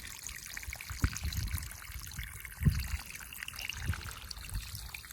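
Water runs from a pipe into a small fish pond in Thailand, a quiet, steady trickle broken by a few soft splashes.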